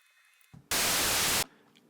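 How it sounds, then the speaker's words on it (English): A burst of harsh, steady hiss, like broadband static, switches on abruptly, holds for under a second, then cuts off into near silence. "this is an oscillator inside your synth that will literally just generate noise"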